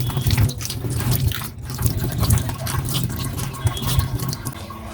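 A crab rinsed by hand in water, with close, continuous splashing and dripping and a few louder sloshes, fairly loud and with no talking.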